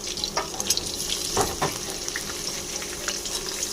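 Beans and carrots frying in a pan for chow mein: a steady, close sizzle with a few scraping stirs and light clatter, with no talking.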